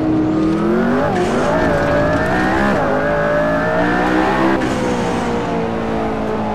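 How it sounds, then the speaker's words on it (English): A high-revving McLaren P1 engine in a racing video game roars continuously, pitch sweeping up and down through gear changes, with brief whooshing blow-off valve releases as the throttle lifts. "Sound is pretty good. I really like the blow-off valve."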